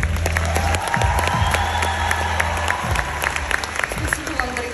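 A crowd at an ice show musical applauds loudly and steadily after the performance, dense clapping with some cheering and voices mixed in throughout.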